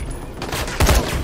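Gunfire in the zombie survival game Dying Light, a loud broadband burst with a heavy low thump partway through, set among other game noise.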